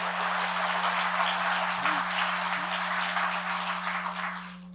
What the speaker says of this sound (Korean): 오늘 귀한 은혜로운 찬양을 한 우리 성가대원들에게 뜨거운 박수로 우리 격려 좀 해줬으면 좋겠습니다.